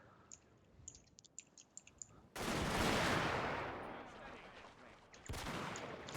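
Artillery shells in a real-time strategy battle land hard: sharp clicks tick faintly, then two loud booming blasts with long roaring tails follow, close and dominant.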